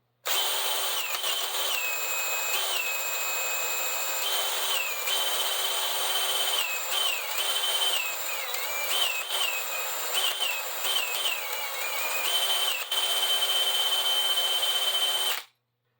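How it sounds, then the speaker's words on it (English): A small bit drills a ring of holes through plaster, a steady high-pitched whine that runs almost continuously, dipping briefly between holes as the pitch shifts, loud and close, then cuts off abruptly at the end. "drill a ring of small holes all around the outside"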